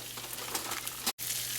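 Rabbit pieces browning in hot Crisco shortening give a steady, dense sizzle and crackle up close, with a brief drop to silence near the end before the frying noise resumes.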